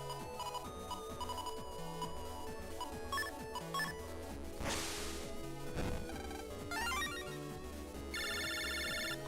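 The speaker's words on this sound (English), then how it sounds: "Lan, you got a phone call." A phone rings in a video game: an electronic ringtone arrives as a bright, rapid trilling burst near the end, over busy game music and sound effects.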